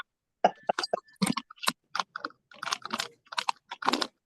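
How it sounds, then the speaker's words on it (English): Someone types on a computer keyboard during a conference call, producing quick irregular bursts of close, crisp key clicks with short pauses between runs. "All that typing going on."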